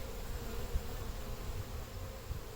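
Saskatraz honey bees buzz at their hive in a dense, continuous drone, close and steady, with no voices over it.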